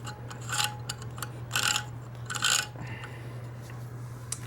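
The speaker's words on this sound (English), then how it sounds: "I'm just going to deburr the edges." A hand file rasps along metal edges to deburr them during a Dana 44 axle reassembly on a 4x4 truck, three or four short scraping strokes over a steady low hum.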